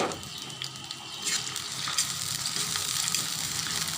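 Chopped green chilies, bay leaves, cardamom and a cinnamon stick frying in oil in a pan give a steady close sizzle, with occasional stirring scrapes and no talking.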